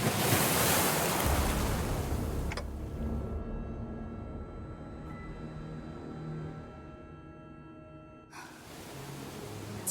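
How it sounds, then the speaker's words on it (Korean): Ocean waves wash in with steady broadband surf, loud at first, then a quieter stretch with a faint tonal hum under the water before the surge swells again near the end; no voices. "당신에겐 들리는 거죠? 그날의 파도 소리가."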